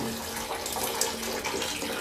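Heated water streams steadily from a container, a soft continuous splashing and trickle heard close up and fairly quiet, with no talking.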